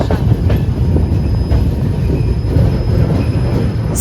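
A passenger train rolls into Siliguri Junction in West Bengal with a loud, close, steady rumble of wheels on rails and a thin, persistent high squeal over it.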